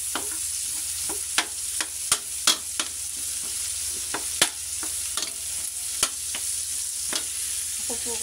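Food frying in a pan is stirred, a steady sizzle under repeated sharp scrapes and knocks of a utensil against the pan at an uneven rhythm.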